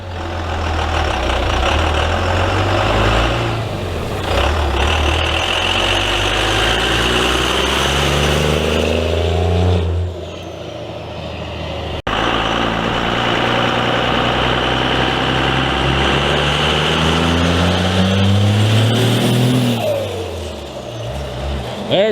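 A Cummins diesel truck with a custom wrap accelerating hard, loud and close, its engine note climbing in rising sweeps through two long pulls with a short lull between them.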